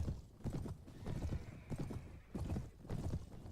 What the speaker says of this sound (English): My horse is so slow.